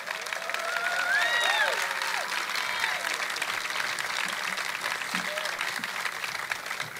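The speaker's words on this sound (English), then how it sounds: "How about a round of applause for these amazing city employees?" Audience applause for city employees at a mayor's State of the City address, a steady, full round of clapping that swells early and holds for about seven seconds, with some voices mixed in.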